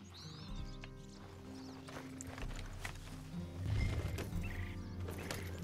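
Horse hooves clip-clop at a walk with several whinnies and snorts, fairly close, alongside faint ambient sounds in Red Dead Redemption 2.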